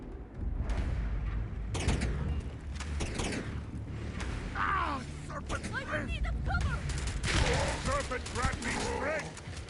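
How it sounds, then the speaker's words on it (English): Gunfire in the space game Starfield crackles in dense, overlapping bursts throughout, steady and loud, with game voices and mechanical noises mixed in around the shots. "I hear the shooting."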